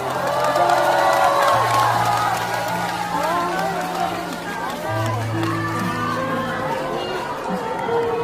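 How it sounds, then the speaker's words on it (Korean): A fan meeting audience at Blue Square cheers and applauds for a singer, a dense, continuous wash of crowd noise with scattered whoops and voices, loud and sustained throughout. "박수 한번 주실까요?"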